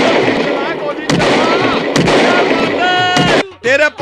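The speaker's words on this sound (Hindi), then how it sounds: "गोली चला।" Loud, sharp gunshot sound effects are played during a radio prank call on a phone line, with several distinct bursts over continuous talk and noise.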